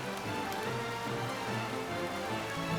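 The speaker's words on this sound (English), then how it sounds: "Stop burning, it's raining." Steady rain in the Horizon's Gate video game, a continuous hiss of drops pattering on a surface, even and unbroken, with no voices over it.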